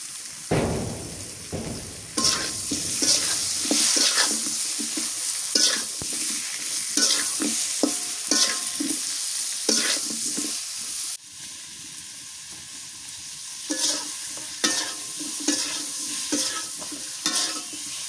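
Eggplant pieces fry in hot oil with a pinch of salt, a steady bright sizzle running throughout while a spoon stirs and scrapes the pan in repeated clattering bursts, close and fairly loud with no voices.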